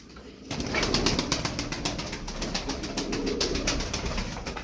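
Pigeons flap their wings in flight, a dense burst of rapid rhythmic wingbeats that starts abruptly and continues close and fairly loud without talk.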